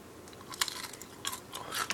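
Crunchy bites and chewing of a crisp, fatty snack eaten in place of cookies, several close, sharp crunches spaced through a quiet background.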